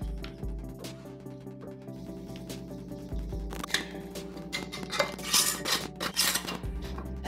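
Wiping and scraping around the rims of glass jars of homemade Greek yogurt, with clinks, rubbing strokes and light rattling over a steady background hum.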